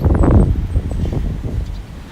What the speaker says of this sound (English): So please bear with me when it comes to wind noise.